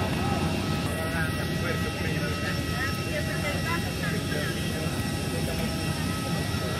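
Airliner cabin drone from a plane in flight to Puerto Princesa, a steady broadband engine and air rush heard from inside, with people talking over it.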